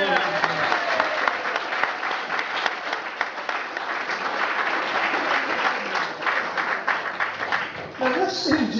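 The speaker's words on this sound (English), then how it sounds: "he deserves a wee round of applause" A crowd at a community gathering gives a round of applause for a volunteer who put up Christmas lights, steady clapping of moderate loudness that holds for several seconds before thinning out near the end.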